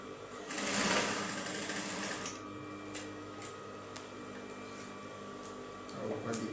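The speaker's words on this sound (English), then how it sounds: "I'm sewing at the upper part, that's the waistline." A sewing machine stitching along the waistline of a straight skirt, a loud whirring run early on that eases into quieter, intermittent stitching with light ticks, while a person talks.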